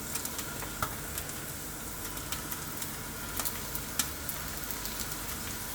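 Eggplant pieces frying in olive oil in a pan, a steady low sizzle with occasional faint pops and crackles, no voices.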